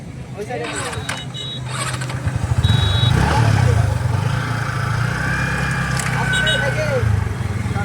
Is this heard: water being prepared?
no